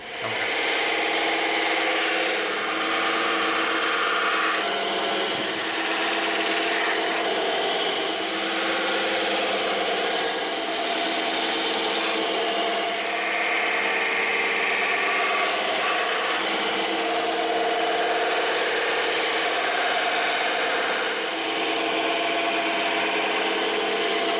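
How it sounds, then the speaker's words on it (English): A bandsaw cuts EVA foam, running steadily and loudly throughout, a continuous whining drone with slight shifts in pitch as the foam is fed through. "Now we're going to take this over to the bandsaw."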